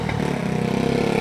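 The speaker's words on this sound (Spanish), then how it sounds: "otra moto más." A motorcycle engine passing along a street in the Dominican Republic, a steady mid-pitched buzz with a slight rise in revs, loud and close throughout the short moment with no talk.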